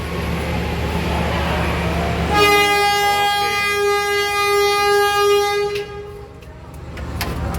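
Train horn signal, semboyan 35, sounded as one long sustained blast loud and near over background rumble and faint voices, then cutting off into quieter ambience.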